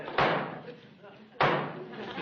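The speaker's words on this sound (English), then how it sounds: "chopping at the door now" Two heavy thuds on a door about a second apart, the second louder, mixed with a sitcom scene's background noise.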